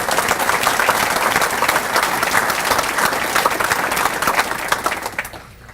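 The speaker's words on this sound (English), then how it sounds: "Would you please join me in applauding these exemplary student athletes who demonstrate excellence" Audience at a university scholar-athlete banquet applauding student athletes: steady, dense clapping from a large crowd that holds for several seconds before thinning out at the end.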